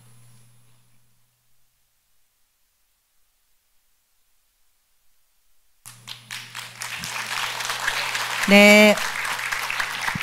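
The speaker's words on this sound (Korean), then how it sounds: "박수가 아마 부족했던 것 같습니다" Audience applause at a Won Buddhist promotion ceremony in the Gangnam temple hall, breaking out after several seconds of near silence and building into steady clapping, with a voice speaking briefly over it.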